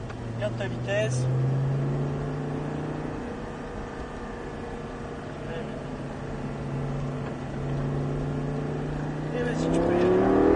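A sports car such as an Audi, Lamborghini or Mustang accelerates on a driving course at Folembray, its steady engine drone rising in pitch near the end, heard from inside the car under an instructor's talk.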